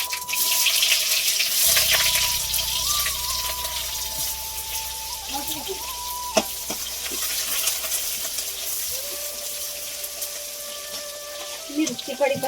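Onion frying in oil with cumin and mustard seeds gives a steady, close sizzling hiss that holds through the whole stretch, with a low rumble joining partway and a few brief clinks near the end.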